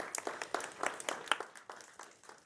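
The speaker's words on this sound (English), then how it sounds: "An applause for Hans, yes." A small lecture audience gives a thin, scattered round of clapping to welcome Hans, a China scholar from Norway, before his talk; the individual claps are quiet and irregular and last only a couple of seconds.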